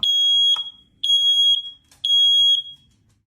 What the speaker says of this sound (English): press and hold the test button until you hear a loud beep or a series of